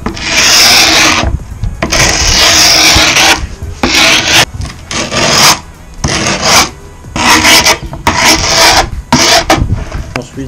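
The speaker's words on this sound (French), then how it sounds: "on prend le tournevis et on va préparer en fait l'endroit où on va découper avec le cutter" Screwdriver scraping and rubbing along skateboard grip tape on a deck, marking the line before trimming with a cutter; close, loud, repeated rasping strokes in bursts separated by short pauses.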